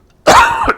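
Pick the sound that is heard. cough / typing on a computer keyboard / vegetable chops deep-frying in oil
cough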